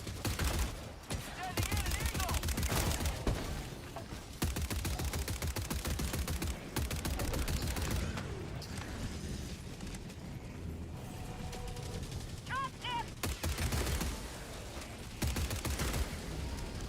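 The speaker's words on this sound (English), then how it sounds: "Gun sounds good." Gunfire and weapon mechanisms in the Helldivers video game, dense bursts of rapid shots rattling almost continuously, with short pauses, under voices talking.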